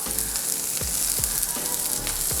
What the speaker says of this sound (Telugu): ఆనియన్స్ని ఇలా వేసి ఒకసారి కలబెట్టిన తర్వాత కొంచెం పసుపు వేసుకుందాము.